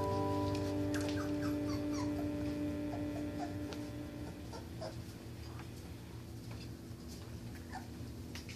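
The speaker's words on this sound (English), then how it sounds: "Who's barking?" Pit bull and husky mix puppies yip and whimper in short bursts during the first few seconds. A steady electrical hum runs underneath, and no one talks.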